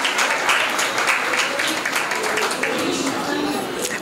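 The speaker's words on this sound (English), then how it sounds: "We'll clap for Lakshmibai school." A school audience at Lakshmibai school's Balsabha celebration claps together in a steady, dense wash of applause, mixed with crowd murmur and some voices, filling the hall for the whole stretch.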